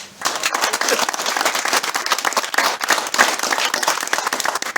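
A crowd at a French canine field-trial event claps in honor of a judge: sustained, fairly loud applause of many hands with sharp individual claps standing out, continuing to the end.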